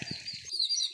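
Small birds in a neem tree give quick high chirps and tweets, with a few soft low notes at the start, heard fairly close over about a second.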